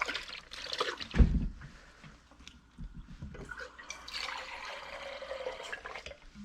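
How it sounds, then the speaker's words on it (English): Liquid poured out from a bag, heard as a close, uneven gush and trickle with scattered drips and a bump early on, then a steadier, softer pouring wash toward the end, with no talk. "what I want to do is actually pour this out."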